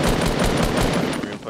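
Rapid automatic gunfire in Fortnite Battle Royale, a dense burst of repeated shots fired in quick succession, loud and close throughout, with a voice talking underneath.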